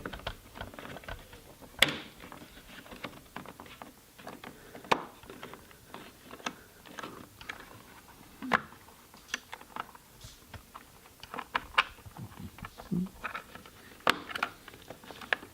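Plastic dynamic indicator unit being clipped into a Volkswagen Golf 7 wing mirror housing, heard as scattered sharp plastic clicks and snaps with small handling rattles, close and fairly quiet, no talking.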